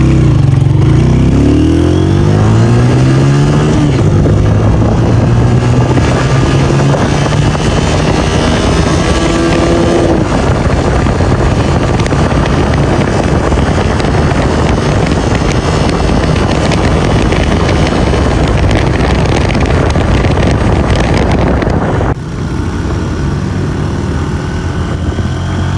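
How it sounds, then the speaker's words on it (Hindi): A 2025 Honda CG125 motorcycle engine, newly tuned, revs up and accelerates through several gears, rising pitch repeatedly, with loud wind buffeting throughout and no talking. "जैसे हमने बाइक का टेस्ट किया 0 to 100"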